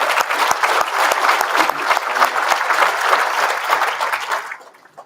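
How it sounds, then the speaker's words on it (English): Sustained audience applause fills the room at an awards gala, a dense, loud wash of clapping that holds steady for several seconds before tapering off at the end. "Let's give Jason another round of applause."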